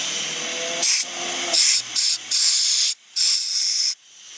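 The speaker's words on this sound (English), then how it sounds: "This compressed air is excellent." Compressed air sprayed onto the mass air flow sensor of a Toyota Corolla in short loud bursts, about five sharp hissing blasts of varying length with brief gaps, close up and without talk.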